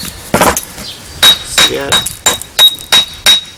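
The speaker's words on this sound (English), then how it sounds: "Use this side of the hammer. That side of the hammer cuts deep." A hammer strikes and trims stone for a fireplace in a rapid series of sharp, ringing clinks, about eight loud close blows in an uneven rhythm, with someone briefly speaking between strikes.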